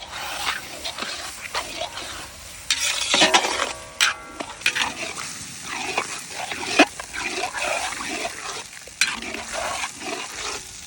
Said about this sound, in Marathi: आपण आता बकऱ्याचे डोळे व्यवस्थित ग्रेव्ही मध्ये शिजवून घेऊ बिहारी स्टाईलने